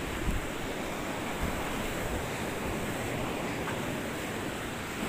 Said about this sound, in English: this place gets battered by the waves